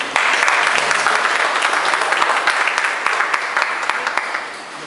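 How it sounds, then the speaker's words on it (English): A Toastmasters chapter meeting audience gives a round of applause, loud and continuous dense clapping from a room of people that holds steady and then tapers slightly toward the end. "Give a round of applause."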